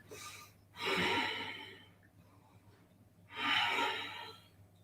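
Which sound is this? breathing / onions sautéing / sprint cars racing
breathing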